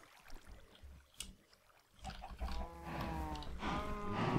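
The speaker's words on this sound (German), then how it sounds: "Und hier fallen gerade Kühe rein." Cows in the video game Minecraft give short, low, bleating moos that grow louder and more frequent in the second half, after a quieter stretch of faint thumps.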